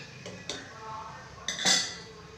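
A spoon scrapes and clinks against a metal pot of curry in two short strokes as it is stirred, fairly quiet and close.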